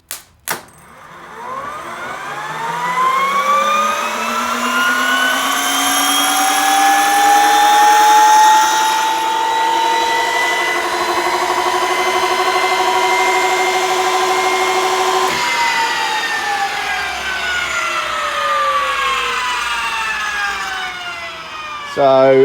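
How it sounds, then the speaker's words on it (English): A jet car's turbine engine cranks over with fuel pump and ignition powered, a loud rising whine that climbs steadily in pitch and holds for about twenty seconds before spooling down, with no voices. "and then obviously cranking the engine"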